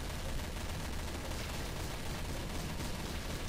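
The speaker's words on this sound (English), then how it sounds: "I can hear shots from over there" Gunfire rattles in Counter-Strike: Source, a dense, steady wash of distant shots and noise running throughout with no clear single reports.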